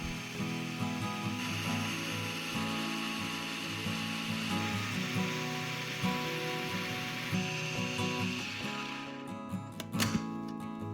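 A food processor whirs steadily while blending chickpeas and tahini into hummus, a loud continuous motor grind with rattling that runs throughout and cuts off near the end.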